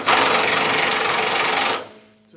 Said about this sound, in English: always hit it first with the impact